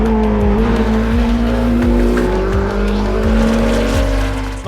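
A twin-turbocharged 4.6-liter LMDH race car engine roars loudly and steadily up close, its pitch climbing through repeated gear shifts marked by brief dips, with no talking.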